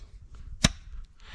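A survival shovel strikes a log once, giving a single sharp woody chop against faint background noise.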